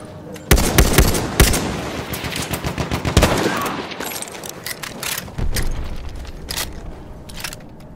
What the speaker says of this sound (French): Présence d'une mitrailleuse! J'ai repéré une mitrailleuse!